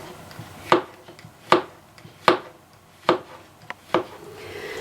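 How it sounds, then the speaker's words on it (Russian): A knife slices carrots into rounds on a board in sharp, evenly spaced chops, about six strokes, close and clear with no talking. "Морковь я нарезала кружочками, а грибы пластинками."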